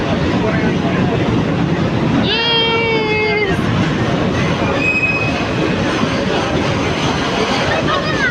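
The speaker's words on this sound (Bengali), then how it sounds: "এই দেখো ট্রেন আসছে" A train rolls into a station with a steady, loud rumble of wheels on rails, a high metallic wheel squeal rising partway through, and people talking over the noise.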